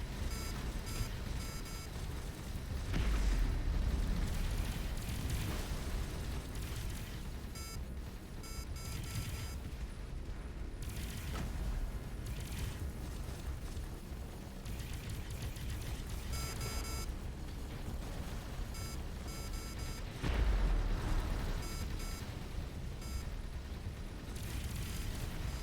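Main cannons fire from a spaceship in the space game Avorion, sounding as a couple of heavy, deep booms that stand out from a constant loud rumbling drone of engines and combat noise.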